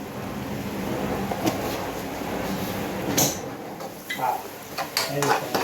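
Spices such as coriander and turmeric powder being stirred in a cooking pan, with soft scraping and stirring and a few sharp clinks of utensil on metal toward the end, faint and close.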